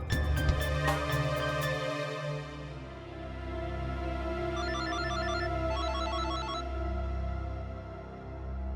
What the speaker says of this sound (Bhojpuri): फोन करके देखत बानी।